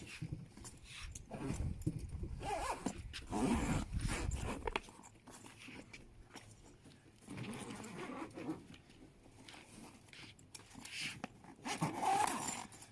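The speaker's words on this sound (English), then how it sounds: "I can even zip it right down" A fabric compression packing cube stuffed with a week of clothes is zipped shut, giving scratchy, rasping zipper pulls and rustling up close, in several bursts with no talking.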